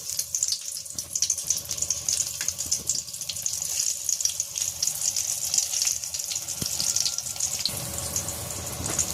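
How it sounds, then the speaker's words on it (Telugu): Eggplant omelette, an onion, green chilli, turmeric, salt and chilli-powder batter, frying in hot oil, giving a steady, close hiss and crackle that runs throughout with no talking. "ఆయిల్ హీట్ ఎక్కింది. ఇప్పుడే వేసేసుకున్నాం."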